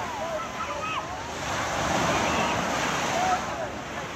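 Sea waves breaking on a beach, a continuous loud surf roar swelling and easing with wind buffeting the microphone and faint voices in the background.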